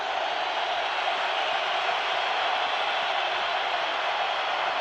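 A packed football stadium crowd at a 49ers at Packers Monday night game roars as one steady, dense wall of noise that holds loud and even from start to finish.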